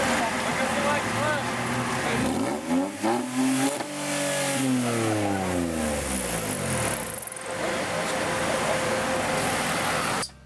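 Sports car with a Cosworth engine revving hard, its roaring note swooping up and down in pitch through repeated blips, loud and close over a noisy background with some talking.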